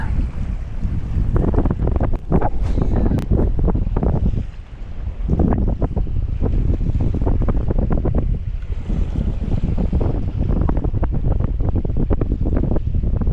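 Strong wind buffets the microphone over a private farm pond whipped into whitecap waves, a loud continuous roar with gusts and splashing water throughout.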